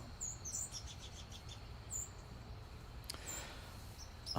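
Faint, high bird chirps come in a few brief bursts over quiet outdoor background hiss, with no talking.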